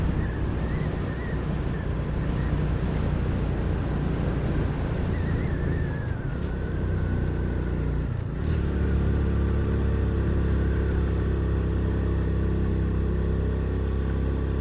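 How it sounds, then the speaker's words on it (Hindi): A motorcycle engine strains up a steep climb near Muzaffarabad, a steady mid-pitched drone that shifts tone partway through, heard close and continuous with no talking. "ज़बरदस्त चढ़ाई है, बाइक की बस हो जाती है।"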